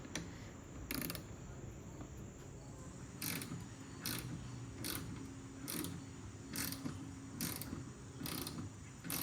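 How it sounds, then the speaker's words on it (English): Ratcheting clicks come in a steady series of sharp bursts as bolts are tightened on a Can-Am Spyder F3 seat backrest, close up over a faint mechanical background. "Alright, so now we're going to tighten everything."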